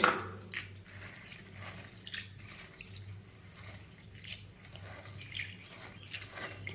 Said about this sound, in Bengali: এই ডালগুলোকে আমি এই জলে দিয়ে বেশ ভালোভাবে ধুয়ে নেব